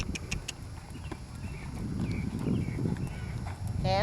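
A horse canters in a riding arena during a training clinic, with muffled rhythmic hoof beats on soft footing and a voice briefly heard near the end.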